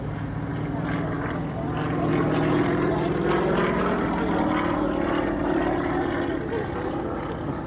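A radial-engine airplane takes off at an airshow at Little Gransden, its deep, throbbing propeller drone holding loud and steady throughout without any talk.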